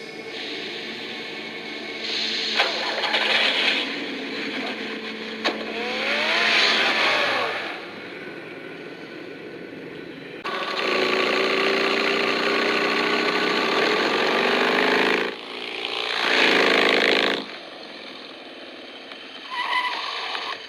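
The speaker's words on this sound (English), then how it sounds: "Get the car ready, Alfred." A car engine in the Batman Telltale Series video game idles, revs and drives off with tire squeal, loud and close, swelling and dropping in several bursts with no talk.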